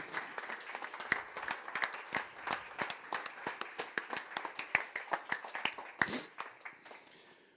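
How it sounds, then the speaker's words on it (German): Scattered clapping from a modest audience at an opening speech on Bitcoin, with distinct individual claps in an uneven rhythm, fairly quiet and thinning out toward the end. "also großen Applaus für die beiden Mädels"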